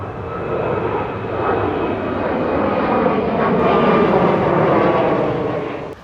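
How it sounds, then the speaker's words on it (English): An airplane passes overhead near palm trees, a broad roaring engine rumble that swells steadily, peaks, and cuts off, loud and continuous with no talk. "Who doesn't love a good palm tree airplane flyby?"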